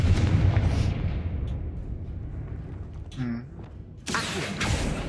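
A Confringo spell blast in the video game Hogwarts Legacy: a loud burst at the start fading into a rumbling decay, with a creaking mechanical tone midway and a second sharp blast near the end.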